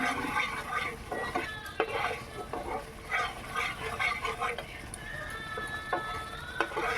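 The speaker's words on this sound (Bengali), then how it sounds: "ভালো করে নেড়ে চেড়ে ভেজে নিতে হবে।" Paneer gravy stirred and fried in a pan, with continuous scraping and sizzling, irregular spoon strokes and a faint animal-like call in the background.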